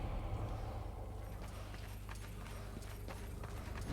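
Horse hooves clip-clopping steadily in the Darksiders 2 video game on Wii U, a quiet, even trotting rhythm over a low continuous background hum.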